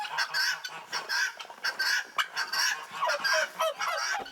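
Several guinea hens call in a loud, close, harsh chorus of repeated honking cries that overlap in uneven bursts throughout, with no voices.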